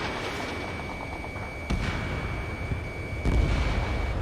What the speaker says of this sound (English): SAM site destroyed.